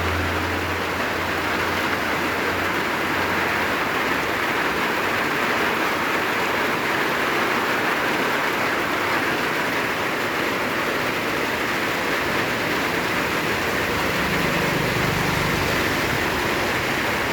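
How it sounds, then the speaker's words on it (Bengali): Heavy early-morning rain pours in a loud, unbroken roar, with a low vehicle rumble passing beneath it at the start and again near the end. "বৃষ্টির মধ্যে গাড়ি চলছে"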